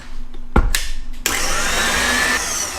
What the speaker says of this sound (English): add the eggs one by one and start whisking again